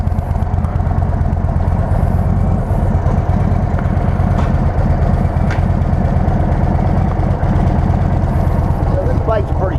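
A 2023 Indian Sport Chief motorcycle idles close by with a steady, loud, throbbing engine rumble that holds even throughout.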